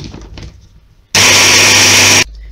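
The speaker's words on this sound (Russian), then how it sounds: "Все перетираем блендером." A kitchen blender grinds poppy seeds with sugar for a pastry filling, a loud steady whirring burst of about a second after faint handling noise, cutting off abruptly.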